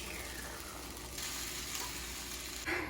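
Butter sizzling in a hot frying pan before bread goes in for French toast, a faint, steady crackling hiss with no talking.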